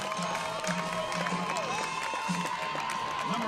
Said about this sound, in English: A Rachel chant had started in the crowd